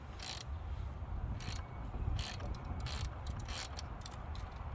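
An 8 mm hex key tightens a bolt on a Honda Monkey mirror extender, giving short bursts of small metallic clicking and ratcheting at irregular intervals over faint background noise, close by, with no talk.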